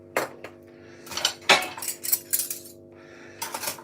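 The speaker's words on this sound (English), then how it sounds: "Let's do the dishes as well, man." Dishes being washed: cutlery, plates and pots clink and clatter in irregular bursts, fairly close, with brief pauses between clusters of knocks and no talking.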